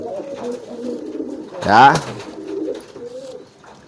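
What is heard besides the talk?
racing pigeons cooing in a coop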